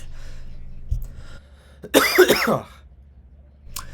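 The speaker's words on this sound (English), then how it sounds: "I will be so excited when I stop coughing" A person clears their throat and coughs: a short rough cough, then a louder gravelly throat-clearing burst, and a faint final cough, close and with no talking.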